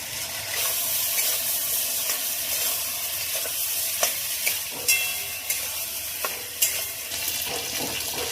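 Drumsticks, potatoes, salt, turmeric and ground spice paste are fried in a pan, with a dense steady sizzle broken by sharp spatula knocks and scrapes as the mix is stirred vigorously.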